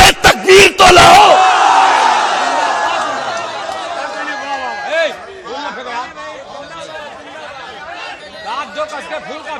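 A large crowd at a gathering in Ajmer roars back a Nara-e-Takbir chant in a loud, dense burst of massed shouting. The noise settles into a sustained murmur of chatter and scattered voices that carries on throughout.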